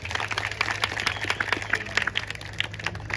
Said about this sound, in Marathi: तुम्ही एक जोरदार टाळ्या वाजवा.